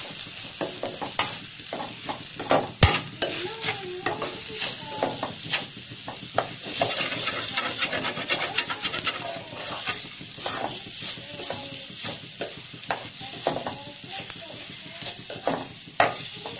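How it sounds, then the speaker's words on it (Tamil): A spiced mixture with curry masala and salt is stirred and fried in a pan, with continuous close scraping and clinking of a spoon over a steady sizzle that lasts throughout. "இதை வந்து நல்லா கலந்து விடுங்க."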